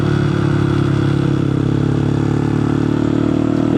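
A 450MT adventure motorcycle fitted with an aftermarket exhaust revs loudly and steadily up close, a rumbling, dense engine note holding throughout with no talk.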